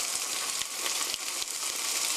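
Frozen bell pepper stir-frying in a pot of tomato sauce for one-pot fusilli, a dense, even sizzle punctuated by light stirring taps, close and moderately loud, with no voices.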